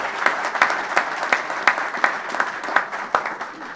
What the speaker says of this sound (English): I think we owe your mother an applause too.